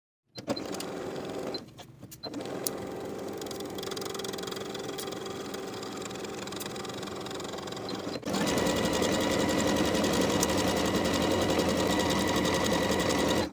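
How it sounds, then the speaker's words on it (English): A sewing machine runs steadily while stitching the side seams of a colorblock garment, with a short pause near the start and a louder, faster stretch of stitching in the second half. "Sew both side seams with a 1/2 inch seam allowance"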